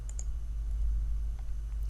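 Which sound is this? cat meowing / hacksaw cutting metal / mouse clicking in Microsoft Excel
mouse clicking in Microsoft Excel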